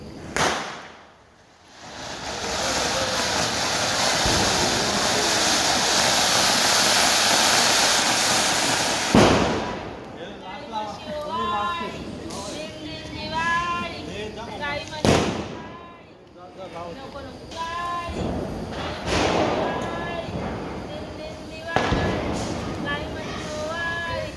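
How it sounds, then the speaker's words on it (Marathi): Firecrackers going off during Lakshmi Puja celebrations, with a long hissing, crackling burst followed by sharp bangs and pops, while people talk and children's voices sound between the blasts. "छान फटाके उडवत होता"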